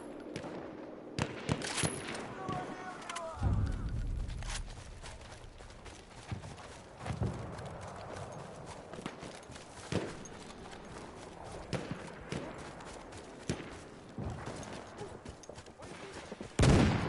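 Horse hooves clip-clop in the Battlefield 1 video game, a steady galloping patter amid scattered gunfire and battle noise, with occasional faint talk.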